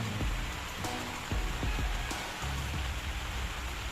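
Heavy, unbroken rain pours during a storm at an outdoor home construction site where steel rebar is being laid, a dense steady hiss with a few faint knocks and thumps beneath it.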